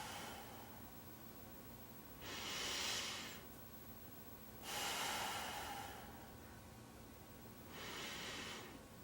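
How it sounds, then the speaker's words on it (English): Slow, deep three-part yogic breathing, three long audible inhales or exhales spaced a few seconds apart, close and airy with quiet pauses between them. "Deep breathing."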